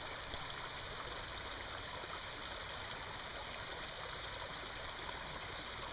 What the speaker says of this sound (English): I'll show you guys the creek and how much it's flowing from all the rain we got.